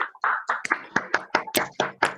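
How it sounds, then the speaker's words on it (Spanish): A small group claps for a lecturer after a journalism talk, quick uneven hand claps in a loose burst, close and dry, alone without speech. "Creo que se merece un aplauso de todos con esta charla."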